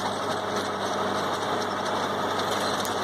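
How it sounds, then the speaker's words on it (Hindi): A tractor running a rotary tiller chops a sunn hemp green manure crop into the soil, its engine a steady, continuous drone with mid-range mechanical rumble, close and alone without any speech. "मैंने इस सनई की फसल को ट्रैक्टर की सहायता से गिराकर मिट्टी में मिला दिया था"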